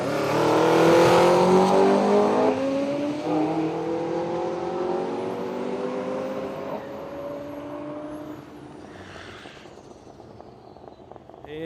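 A turbo diesel ute in the manual class launches down the drag strip at Willowbank Raceway, its engine roaring loud and close, then pitching down and fading into the distance as it pulls away.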